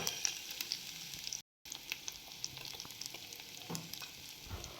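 Spice paste of dried chilli powder, coriander powder and salt fries in a pan for a fish fritter curry, giving a soft, steady sizzle with faint stirring scrapes and crackles.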